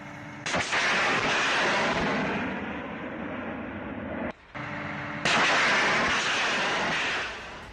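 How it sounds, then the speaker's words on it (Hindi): Gunfire crackles as a Russian soldier shoots down a Ukrainian drone, dense loud bursts with a short break in the middle, then another sustained volley, no talk heard. "रूसी जवान ने ड्रोन को बंदूक से उड़ा दिया"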